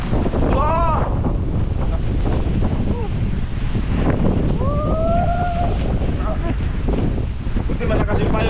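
Strong typhoon wind roaring and buffeting the microphone outdoors, a loud constant rushing blast throughout, with people talking over it.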